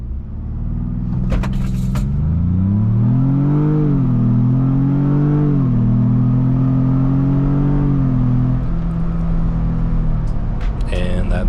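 A Ford Bronco 4-cylinder with traction control off accelerates hard from 0 to 60, the engine note rising through several gear shifts with short dips between them, loud and continuous inside the cabin before easing off near the end.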